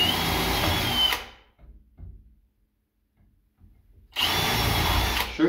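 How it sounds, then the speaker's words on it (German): An 8 mm wood drill bit with a centre point bores into a wooden door at the lock cutout, a loud steady whirring burst, then a pause with faint knocks before the drill runs loudly again. "Das ist ein 8 mm Holzbohrer mit Zentrierspitze."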